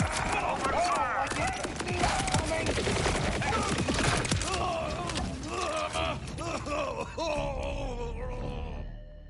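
Gunfire in the shooter game Borderlands 4, rapid crackling bursts layered under strained character voices and grunts, loud and continuous before tapering off near the end.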